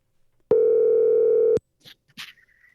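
A single steady telephone dial tone, loud and close, holds for about a second while a call to a diesel expert is placed on a truck podcast, followed by a few faint clicks and soft noises.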